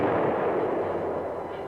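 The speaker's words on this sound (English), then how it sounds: "the tanks meet heavy fire from enemy tanks" Heavy battlefield gunfire from tanks and anti-tank guns, a loud continuous rumbling barrage of booms and cracks with no clear gaps, dense and close throughout.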